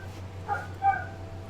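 Two short, faint dog barks sound from a distance, spaced apart over a low steady hum.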